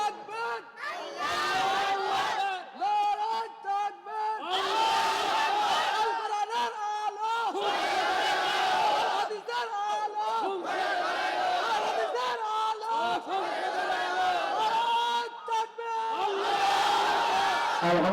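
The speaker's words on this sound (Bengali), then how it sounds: "এবার একজন তাকবীর দেন যার শক্তি আছে। নারায়ে তাকবীর।" At an outdoor religious gathering, a large crowd repeatedly chants the takbir in loud, rhythmic waves of shouting in answer to a leader's call, each call and response following the last with short gaps.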